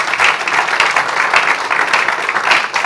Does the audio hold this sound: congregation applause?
yes